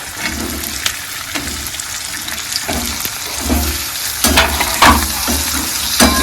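Onion and potatoes for poha sizzle in a pan, stirred with repeated close scraping strokes that come in an irregular rhythm over continuous frying noise. The stirring grows slightly louder toward the end.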